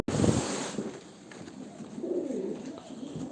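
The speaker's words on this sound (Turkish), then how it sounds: "Çok kuş var beyler" Pigeons or doves coo in a busy loft ahead of a shipment abroad, low rolling calls overlapping at close range with steady background noise.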